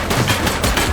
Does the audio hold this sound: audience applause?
no